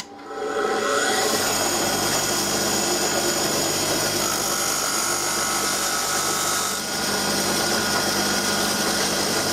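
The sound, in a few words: sharpening chalk on the side of a grinding wheel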